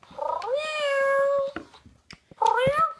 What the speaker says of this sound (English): You can hear that she has a lot of different types of meows